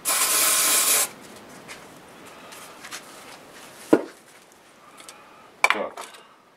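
A short burst of lubricating oil sprayed from an aerosol can for dipping cartridges, a dense hiss lasting about a second, followed by faint handling clicks and taps.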